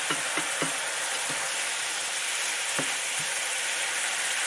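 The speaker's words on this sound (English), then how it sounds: "Mushrooms are cooking up nicely" Mushrooms and green beans frying in a pan for Italian green beans, a steady loud sizzle with a few soft clicks of stirring near the start, no voices.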